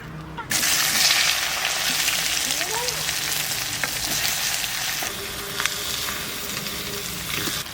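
Loud, bright sizzle bursts up as onion hits hot mustard oil with dried chilli and cumin for a Sundarbans crab curry, then settles into a steady crackling fry with occasional stirring scrapes, no speech.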